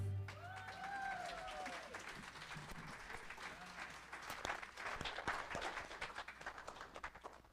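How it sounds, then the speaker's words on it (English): A church congregation applauds a singing ensemble, with a brief sung tone at the start giving way to a sustained wash of clapping from many hands and scattered voices in the room. "Give them one more round of applause"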